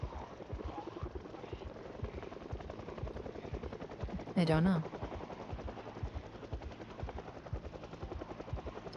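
A helicopter in the video game Project Zomboid thuds with a steady rapid rotor chop throughout, fairly faint and constant, while a person briefly mutters over it.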